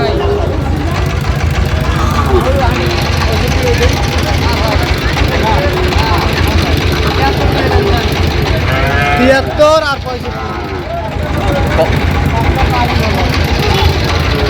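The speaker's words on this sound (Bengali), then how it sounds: "এখানে যে গরুগুলো কিনছেন" Sahiwal bull calves and cattle at a busy livestock market in Sylhet, with moos rising from a dense crowd of bargaining voices and idling engines, loud and continuous throughout.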